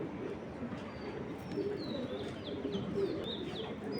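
Racing pigeons coo softly and repeatedly close by, low murmuring calls mixed with a few faint higher chirps from squabs over a quiet background.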